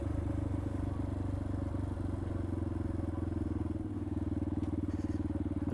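A Yamaha XT250 motorcycle engine idles high and steady, a close, even, rapid thumping rumble that continues unchanged, no talking.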